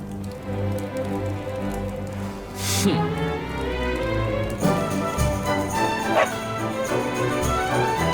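Dog barking in the video game Dragon Quest XI, a few sharp yips over a steady rain-like ambience and game music, with a character voice speaking alongside.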